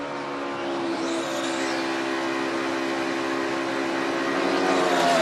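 A NASCAR stock car at full throttle on a 2017 qualifying lap, a steady, loud high-pitched engine drone with a faint pitch sweep of the car passing, continuous and without speech.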